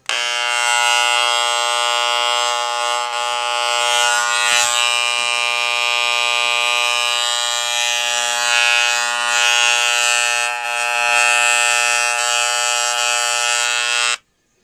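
Older-model Wahl CMCO electric hair clippers running after repair, a loud steady high-pitched buzzing hum that holds evenly for about fourteen seconds before cutting off abruptly.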